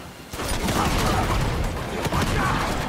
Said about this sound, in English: They're fucking shooting at me!